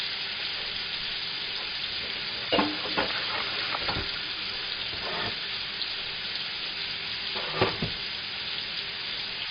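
Moose meat fries in a pan with sugar and iced tea for a stew, a steady close sizzle broken by a few sharp scrapes and knocks of stirring, with no voices.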